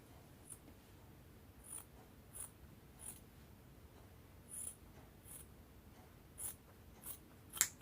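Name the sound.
trimming excess fabric off a welt pocket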